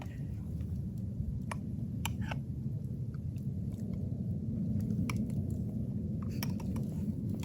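Close, wet chewing and crunching of a slightly crunchy roasted potato at a campsite, steady and continuous, with occasional small clicks and clinks of utensils.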